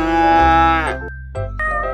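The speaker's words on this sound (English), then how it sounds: "Cow." A single cow gives a long, loud moo, followed after a short pause by a second, shorter lowing call, close and alone without any talk.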